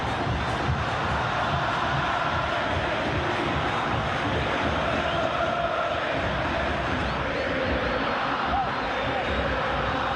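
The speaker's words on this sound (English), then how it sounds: "Just listen to the crowd here." Football stadium crowd at an Argentina vs Brazil World Cup qualifier, a huge continuous roar and chanting that fills the space evenly for ten seconds, distant and dense with no single voice standing out.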